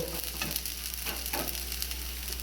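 Ginger paste and green chili paste sizzle in a pan with rice, a steady close frying hiss, with stirring scrapes recurring every half second or so and a low hum underneath.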